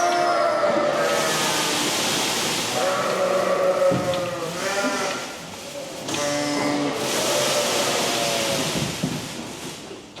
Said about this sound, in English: trying to turn a sheep around that's for some reason come in reverse.